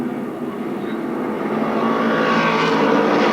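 Pro Stock race cars roar around Stafford Speedway during a 1992 feature race, a loud, dense engine drone that swells steadily as the pack closes in tight heading into a turn.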